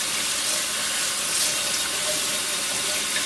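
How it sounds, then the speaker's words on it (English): Tepid water runs steadily from a tap, rinsing a hydro-dipped guitar body; a constant, close hiss of flowing water with no pauses and no voices. "Just to use tepid water to rinse it."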